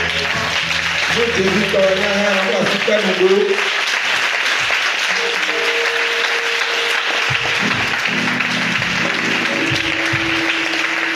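A church congregation applauds and cheers in steady, sustained clapping that fills the room, while a preacher's voice and sung tones carry over the crowd throughout.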